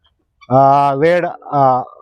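Free-range desi chickens at a country poultry farm, with a few loud close clucking calls in quick succession from a single bird.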